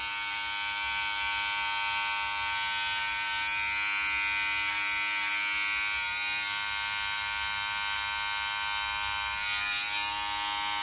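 Electric hair clippers with a 1/8 inch guard run steadily during a medium high taper haircut, giving a close, constant motor buzz with small shifts in pitch as the blades move through hair.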